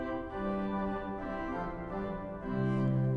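A 1906 Felgemacher pipe organ sounds its quint stop together with the principal, sustained chords moving in steady held tones with a rich, slightly sour overtone blend, filling the room at a moderate level and swelling louder near the end.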